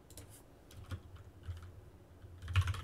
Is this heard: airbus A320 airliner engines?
no